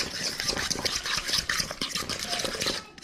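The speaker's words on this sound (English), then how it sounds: "so I'm just going to let it go with the fork, and it's going to get creamy, creamy, creamy." Fork whisking roasted eggplant and tahini into a chunky baba ganoush, a steady run of close, wet scraping and clicking strokes against the bowl with no talking.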